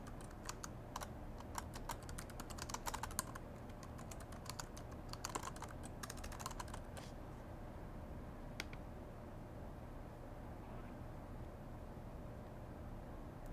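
Rapid, steady typing on a computer keyboard sounds as light clicks for several seconds, then thins out to a few scattered keystrokes over a constant hiss.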